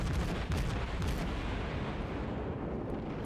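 Heavy main-gun fire from the Hindenburg cruiser in World of Warships, a dense roaring wall of booming blasts and rumble that stays loud throughout, with a couple of sharper cracks early on.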